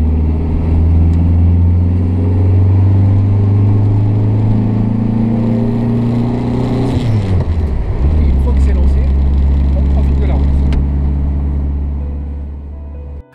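A 1961 Renault 4CV's small engine drones steadily up close, dipping briefly as it shifts gear, then pulling on again with a low rumbling hum.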